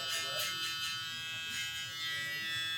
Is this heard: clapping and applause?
no